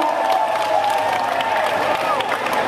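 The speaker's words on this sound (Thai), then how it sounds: "ปรบมือซ่อนๆให้กับน้อง" Audience clapping and cheering for a young girl Muay Thai kickboxer at a Thai kickboxing bout, a steady broad crowd roar of applause filling the whole stretch with no pauses.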